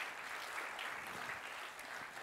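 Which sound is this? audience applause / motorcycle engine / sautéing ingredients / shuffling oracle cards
audience applause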